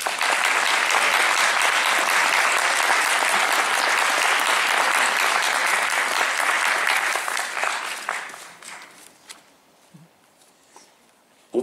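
An audience at a student film festival masterclass at the Université de Lorraine claps loudly and steadily for several seconds, then the applause thins out to scattered claps and fades to quiet.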